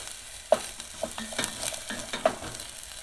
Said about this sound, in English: Stir those around.